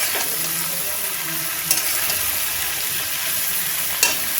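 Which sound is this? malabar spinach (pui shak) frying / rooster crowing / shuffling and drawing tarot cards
malabar spinach (pui shak) frying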